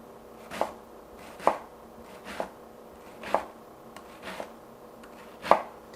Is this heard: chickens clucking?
no